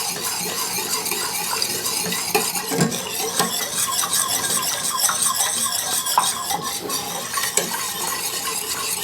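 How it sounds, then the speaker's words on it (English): A spoon keeps scraping and swirling through a pumpkin gummy mixture in a pot. The stirring is steady, close and busy, with faint clinks against the pan and no voices. "We're going to stir that in till it's nice and smooth."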